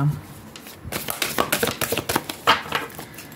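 A deck of oracle cards being shuffled and cut by hand, giving a quick run of close, crisp riffling and slapping flicks with a soft voice underneath.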